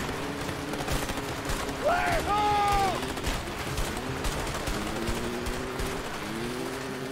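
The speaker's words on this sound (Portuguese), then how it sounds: "Caralho, quanto tiro," Rapid gunfire bursts crackle throughout the cooperative action video game A Way Out, dense and continuous over background game noise, while players shout excitedly over the shooting.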